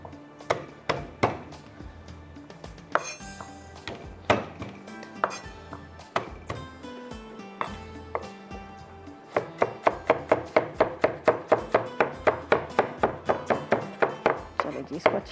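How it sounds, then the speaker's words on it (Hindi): Fresh garlic being chopped with a knife on a board for corn fried rice in a home kitchen, a steady run of close, crisp thunks that speeds into a fast even rhythm toward the end. "ताज़ा लहसुन को चॉप करके डाल दिया करें"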